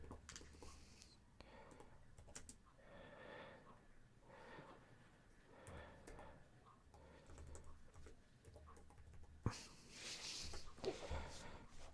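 Soft, quiet clicking of keys on a computer keyboard comes in close bursts, with faint whispered speech and breathing around it.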